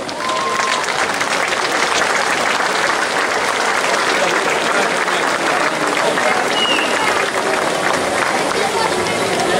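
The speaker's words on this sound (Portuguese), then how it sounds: "Uma grande salva de palmas." An audience applauds a philharmonic band at an outdoor fair, dense sustained clapping that stays loud and even from start to finish.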